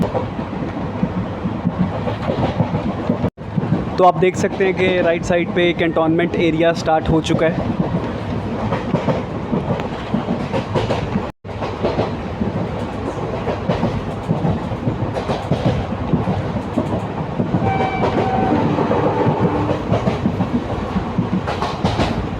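Kalka-Ambala passenger train rolling into Chandi Mandir cantonment station, with a steady rumble and clickety-clack of wagons throughout and brief squeal-like tones, while someone narrates over the noise.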